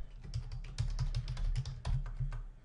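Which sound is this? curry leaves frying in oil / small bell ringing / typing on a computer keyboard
typing on a computer keyboard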